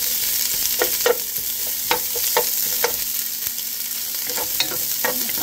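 Garlic and onion frying in a pan, a steady soft sizzle with scattered light taps of stirring, close and alone.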